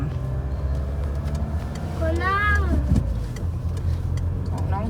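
Car driving through a small Italian village, a steady low engine and road rumble heard from inside, with a person talking over it partway through.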